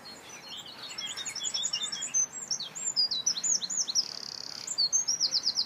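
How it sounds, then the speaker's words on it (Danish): A European robin sings in a garden, its bright, rapid twittering phrases repeating close and clear over a soft background hush. "Hører rødhalsen, den synger."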